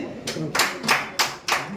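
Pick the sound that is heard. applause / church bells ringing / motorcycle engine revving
applause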